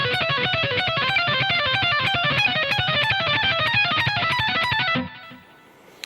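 Distorted electric guitar plays the third solo of a song at full speed, a rapid, even run of picked notes for about five seconds before cutting off and ringing out.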